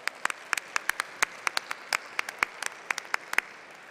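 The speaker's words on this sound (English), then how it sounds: "I think a round of applause is appropriate nonetheless." An audience at a technology awards ceremony gives a light round of applause, with scattered, distinct hand claps from a modest crowd, crisp and irregular, filling the few seconds without any voices.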